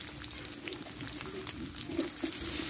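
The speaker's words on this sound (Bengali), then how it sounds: "পেঁয়াজটা ভালোভাবে একটু লালচি করে একটু ভেজে নেব" Chopped onion frying in hot oil for a Bengali-style potol curry, a steady close sizzle with soft crackles and occasional stirring scrapes, growing slightly louder toward the end.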